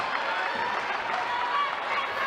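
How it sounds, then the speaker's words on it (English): Spectators at a netball match between Matrix and Tango cheer and clap in a continuous broad roar, steady and fairly loud throughout the moment. "Crowd are loving it for Tango here."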